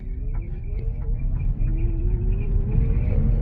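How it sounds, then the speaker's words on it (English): A Chevy Bolt electric car accelerates hard from a stop toward 60 mph on a slightly wet road, wheels spinning, heard from inside as a steady low rumble with a faint rising whine, no talk. "So I'm gonna do one more 0 to 60 with my seatbelt on here and a little bit less of a wet road"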